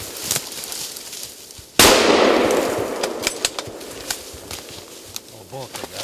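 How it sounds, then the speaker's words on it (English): A hunting rifle fires at a moose during a hunt in Alberta, one loud close crack with a long decaying outdoor echo, followed by clicks and handling noise. "Get another bullet in, quick. He's down."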